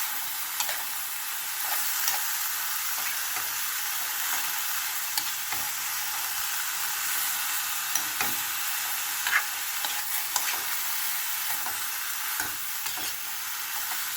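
Mung bean sprouts and tofu being stirred in a frying pan: a steady bed of sizzling hiss with soft scraping stirs and small clicks scattered throughout, close and moderately loud, no voices.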